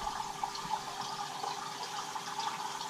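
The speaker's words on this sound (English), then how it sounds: "So I'm just about to put my second lot of ICC in here." ICC treatment pours steadily into a koi pond, a continuous close liquid splash and trickle with no break for three seconds and no talking.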